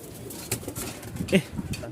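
Soft cooing of Rajshahi Giribaj flying pigeons rises and falls against a low background hum, a few brief louder calls standing out among quieter murmurs.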